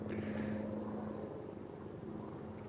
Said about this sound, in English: You guys hear the tourist helicopters?